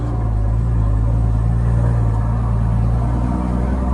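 A car engine with a Mitsubishi TF08L turbocharger runs under boost at around ten pounds, a steady loud low drone with no pauses.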